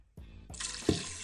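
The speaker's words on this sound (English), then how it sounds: "now you just pour the water out" Rinse water poured off rice in an Instant Pot pot, a short splashy gush of liquid with a small slosh, quiet and close.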